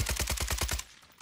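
Rapid burst of AK-47 fire in Warzone 3, about eight loud, evenly spaced shots in under a second, then a short fading tail.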